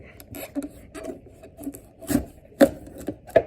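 A large knife cutting through a Dickerson pumpkin, heard as irregular woody chops and scraping strokes, with a few sharper, louder cuts near the end, close up and without talk.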